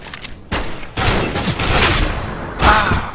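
A gun fires in rapid, loud bursts separated by short gaps during a CS:GO deathmatch on the Cobblestone map, with heavy, close-range shots dominating the mix.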